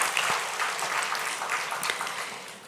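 A church congregation claps together in a brief, even burst of applause that holds steady throughout.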